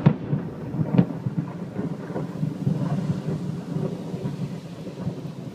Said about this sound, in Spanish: se acaba de venir un relámpago